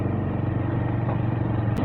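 A motorcycle rides along a village road, its engine giving a steady, rough mid-pitched drone with light clatter, close and continuous with no talking.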